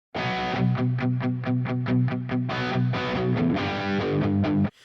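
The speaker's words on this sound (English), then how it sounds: "I added some reverb, some chorus, some EQ, and some noise reduction" A distorted electric guitar plays a rhythmic riff through a Nux MG-300 with reverb, chorus, EQ and noise reduction, wide and shimmering, loud and alone before stopping abruptly.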